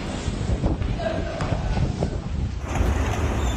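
Strong typhoon Marce winds roar and buffet the microphone in a steady, loud rush with gusty swells, overlaid by a reporter's voice.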